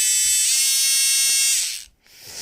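Small electric drill spinning at speed, a high, close, buzzing whine that holds steady, shifts pitch slightly, cuts out briefly, then starts again.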